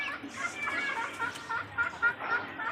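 Free-range desi chickens and roosters cluck and call close by in short repeated bursts, with soft background noise and faint voices mixed in.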